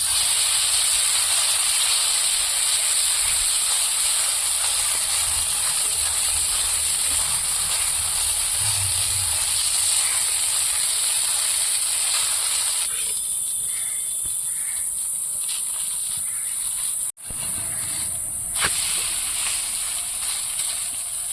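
Potato paratha cooking on a very hot tawa over a slow wood-fired stove, giving a steady, fairly loud hiss that runs the whole stretch with a brief dropout near the end.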